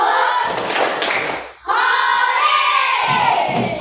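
Schoolchildren in a classroom chanting and clapping a 'tepuk pulang' rhythm together, loud and close, voices and claps surging, breaking off briefly, then resuming in unison.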